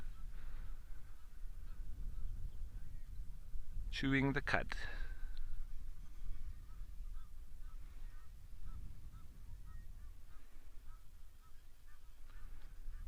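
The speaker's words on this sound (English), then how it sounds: "Egyptian geese." Egyptian geese give a short, loud burst of harsh honks midway through, set against outdoor ambience while someone narrates.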